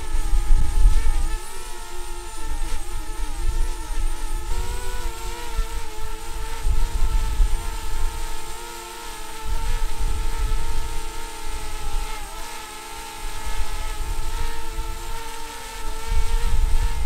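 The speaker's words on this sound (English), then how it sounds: "Let's just see if we can fly the DJI Spark in a fresh breeze" DJI Spark drone flying outdoors in a fresh breeze, with a steady close motor whine and buzzing propellers that hold throughout, under heavy wind rumble that rises and falls.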